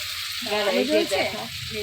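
Fish sizzles and spits in hot oil in a home kitchen pan, a short close burst of frying that swells briefly and then settles back to a steady hiss.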